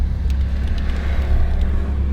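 Nissan Skyline on new tyres, steady engine rumble and road noise heard from inside the car as it cruises at an even pace, loud and constant.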